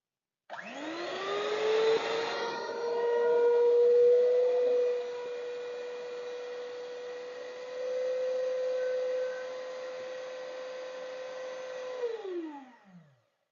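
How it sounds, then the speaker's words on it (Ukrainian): A cheap electric kitchen blender switched on empty, running alone as a steady droning motor whine for about twelve seconds, rising and easing slightly in loudness before winding down and stopping. "Такий блендер."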